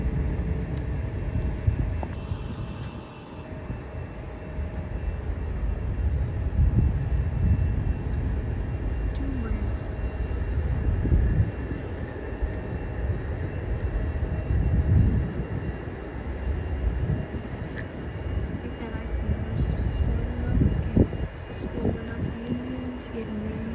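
Delta Boeing 737-800 taking off at SeaTac airport, heard from a distance as a sustained low, rumbling jet roar that swells and holds for over twenty seconds, with faint voices nearby.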